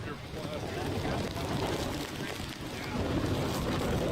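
Strong wind from Hurricane Harvey buffets the microphone in a broad, roaring rush that swells louder toward the end, with a voice mixed into the blustery noise.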